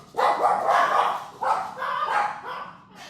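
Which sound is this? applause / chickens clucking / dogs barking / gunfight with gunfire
dogs barking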